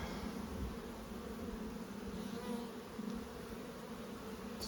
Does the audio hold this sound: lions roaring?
no